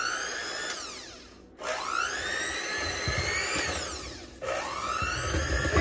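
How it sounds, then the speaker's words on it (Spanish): An electric mixer whirs continuously through frozen milk, its motor whine sweeping up in pitch after two brief dips, close and steady with no talking. "Congeladita la leche hasta que espese, la vamos a batir hasta que espese"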